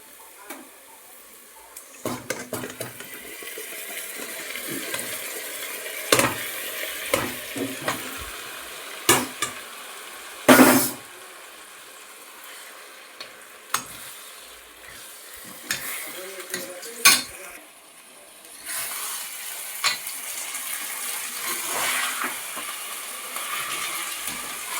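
Mutton pieces, cleaned and rubbed with turmeric and salt, sizzle in a pan for mutton curry, with a continuous frying hiss broken by sharp scraping and clanking strokes of a utensil stirring against the metal.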